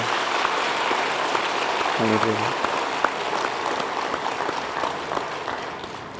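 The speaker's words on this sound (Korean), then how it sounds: "우리 하나님 앞에 영광의 박수 올려드리도록 하겠습니다." A church congregation applauds throughout a worship service marking a 37th founding anniversary, a steady, dense wash of clapping with a brief low tonal sound near the middle.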